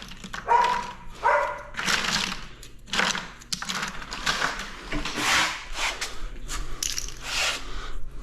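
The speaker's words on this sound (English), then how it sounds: "what are the doggies barking at?" Dogs barking in bursts close by on a floor-tiling job site, sharp repeated barks with short pauses and some clattering between them over about eight seconds.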